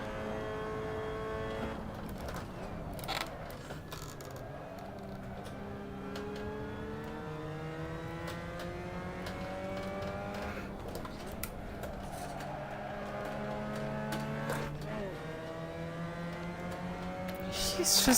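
Mazda MX5 Cup race car engine in Assetto Corsa at Alastaro, a steady droning note rising and falling through repeated gear changes and revs, continuous and fairly loud throughout with slight clatter at the end.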